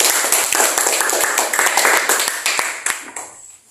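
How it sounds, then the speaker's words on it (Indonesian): Students in a classroom clap together in a dense, steady burst of handclaps that carries on for a few seconds and then tapers off into quiet. "tepuk tangan dulu bagi kita semua"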